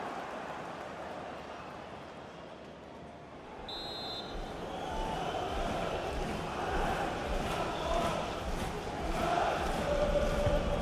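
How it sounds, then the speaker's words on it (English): A virtual stadium crowd in FIFA 22 at a Premier League match, Crystal Palace against Newcastle, rising in a swelling roar after a quiet start and growing louder toward the end as a goal chance builds. "Well, just listen to the crowd."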